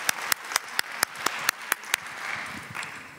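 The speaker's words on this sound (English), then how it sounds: "would you please give her a very, very warm round of applause" Audience at a keynote speech applauds, with about nine sharp, evenly spaced claps ringing out clearly over a softer wash of clapping that fades near the end.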